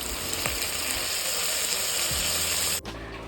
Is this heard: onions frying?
yes